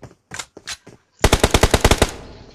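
Rapid automatic gunfire in PUBG Mobile: a few separate shots, then a loud close burst of about nine quick rounds that trails off, with no talking over it.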